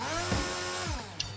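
A chainsaw hacks through wooden crates in the video game Blood Party, giving a steady, close buzzing drone with a rising whine near the end and no voices over it.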